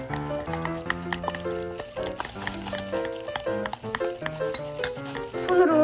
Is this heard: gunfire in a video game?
no